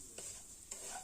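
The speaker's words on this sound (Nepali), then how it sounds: "एकदम मजाले चलाएर चाहिँ भुट्नुपर्छ सुजीलाई" Semolina is stirred and roasted in a pan for suji halwa, making a very faint, soft scraping and light sizzle with two brief stirring strokes, and no voices.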